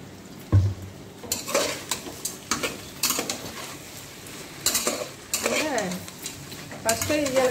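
Ginger garlic paste frying and being stirred in a pot for a coconut-milk biryani, with metal utensil scrapes and clanks over an intermittent sizzle, close and fairly loud.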